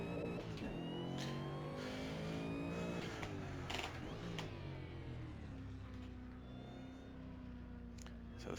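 A supercharged HSV car in a racing simulator video game accelerates hard, its engine note rising and dropping through quick downshifts and upshifts, with a whining drone underneath, loud and continuous.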